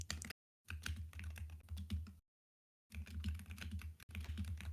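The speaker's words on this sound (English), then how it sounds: "Thanks for typing exactly what I said." Keyboard typing during an online game coaching session, with quick, close clicking keystrokes arriving in several short bursts broken by silent gaps.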